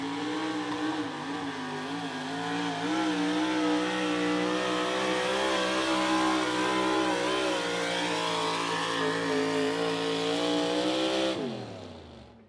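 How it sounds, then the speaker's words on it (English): A modified 4x4 pulling truck with a 720 cubic inch Ford Hemi roars continuously at full throttle during an outlaw truck pull, loud and sustained, with wavering pitch as it strains under load before cutting off at the end. "720 cubic inch Ford Hemi in the Thumper"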